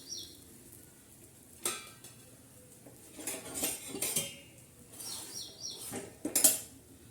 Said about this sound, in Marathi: अशी उलटणी घालायची आणि या पद्धतीने असं पलटी मारायचं